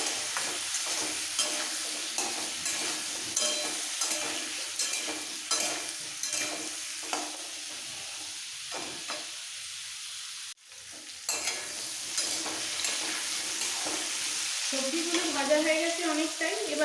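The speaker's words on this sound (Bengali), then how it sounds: "এবার একসাথে একটু ভেজে নেবো" Spinach ghonto for a matar dal bora dish sizzles steadily in a pan as salt and turmeric powder are fried in with the ingredients, with continuous stirring scrapes and a brief lull partway through.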